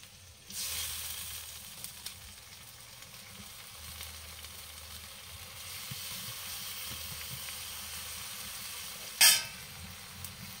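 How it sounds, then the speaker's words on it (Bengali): Malabar spinach and stems going into a pan with water for a shrimp and spinach curry: a sudden rush of sizzling hiss that settles into a steady low bubbling, with one sharp clatter near the end. "দিয়ে দেবো জল এবার দিয়ে দেবো পোয়ের শাক আর ডাঁটাগুলো"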